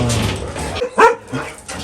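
A Doberman at an animal shelter gives a few short barks and yips amid background noise, one loud bark standing out near the middle.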